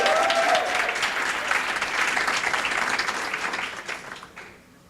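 An audience at a corporate keynote gives a loud, dense round of clapping that holds steady and then tapers off toward the end.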